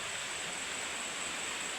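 A steady, even rush of flowing river water, constant and fairly close, with no voices.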